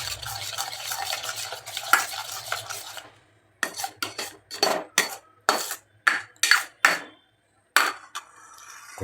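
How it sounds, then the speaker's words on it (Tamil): Thick mango halwa stirred in a pan, a burst of sizzling scraping followed by a run of rhythmic scrapes and knocks of the spoon against the pan, close and alone. "எவ்வளோ நேரம் கிண்டுறது இதை?"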